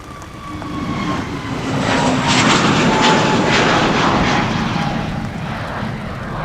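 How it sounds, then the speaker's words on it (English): KLM Airbus A321neo departing Amsterdam Schiphol's Polderbaan runway on a showery day, a jet roar that builds over the first two seconds and holds strong and close, with a faint tonal whine above, no voices. "So we have a KLM A321neo that is now coming this way."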